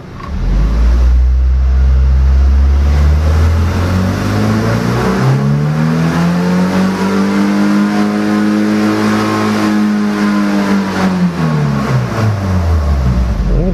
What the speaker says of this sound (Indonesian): Kita coba kita beri ini RPM naik, apakah dia juga ikut naik?